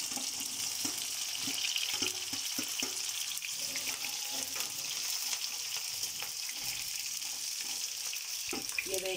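Jackfruit pieces shallow-fry in hot oil with a continuous close sizzle. Scattered clicks and knocks from stirring break through it now and then. No speech.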